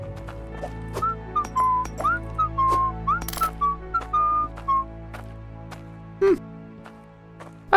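Characters in the mining game Hydroneer whistle a bright, wandering tune of short rising and falling notes over a steady low hum, with a few soft clicks and a thump.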